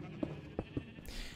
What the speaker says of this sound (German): Ihr hört es schon, wie gesagt, Schafe werden geschert.